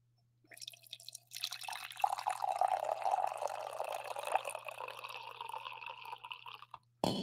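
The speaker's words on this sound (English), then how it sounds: "That's the last coffee pour of the day" Coffee poured into a cup or mug, a steady trickling, filling sound of liquid that rises gradually and runs for several seconds, close and moderately loud, with no talking over it.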